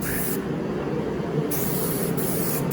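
Steady, close hiss of aerosol spray cans applying metal flake paint to a car, continuous for several seconds with brief changes in tone as the nozzle is pressed.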